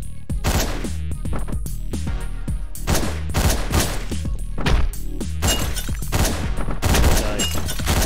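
Rapid bursts of gunfire in Hotline Miami crackle and thump nonstop, dense overlapping shots with heavy low booms throughout.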